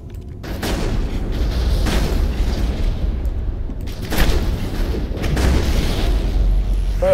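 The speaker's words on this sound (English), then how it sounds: "And that's a grenade. That's a grenade." A grenade blows up in the game Mass Effect amid steady combat rumble, with several heavy booming blasts, the loudest landing a few seconds in.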